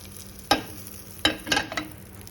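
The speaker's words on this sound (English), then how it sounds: "I'm going to take around a cube of butter and I'm going to add it to my pan, let it melt a bit." A cube of butter melting in a pan for caramel popcorn, with a soft steady sizzle and three sharp close scrapes or knocks of a utensil against the pan, no voices.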